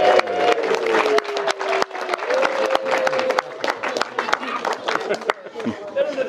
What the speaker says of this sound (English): They don't like the applause